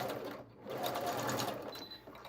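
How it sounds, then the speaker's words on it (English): A sewing machine runs in a workroom, its motor whirring steadily with a brief dip partway through, fairly quiet and close, with no speech over it. "She is being so sassy right now, this sewing machine."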